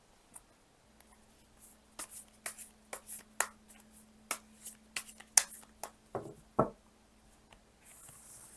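Tarot cards are shuffled and drawn on a table, a quiet series of close taps, flicks and slaps in an irregular rhythm with no voices.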